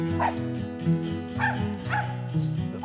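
Dog barking at a fox squirrel up in a tree during a squirrel hunt, a series of four or five close, loud, yelping barks in an uneven rhythm over a steady low background hum.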